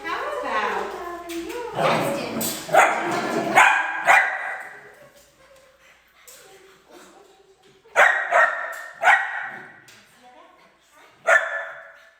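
A small dog barks in short sharp bursts at home during recall practice, with a few yips spaced out amid lively women's chatter and cooing, the barks fairly close and loud between the voices.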